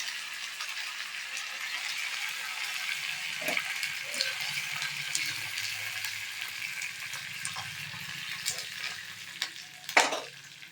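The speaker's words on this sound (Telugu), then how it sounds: "తాలింపులన్నీ వేగినాయి ఫ్రెండ్స్. కరివేపాకు వేసేద్దాము." Curry leaves crackle in hot tempering oil for thotakura pappu, a steady close sizzle and spit with scattered pops, rising to a sharper burst of crackling near the end.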